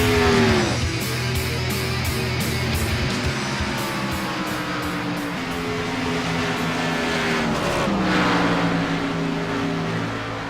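Race cars lap the Darlington oval in a dash-for-cash event, engines droning steadily with rising and falling pitch as cars sweep past, a continuous loud roar throughout.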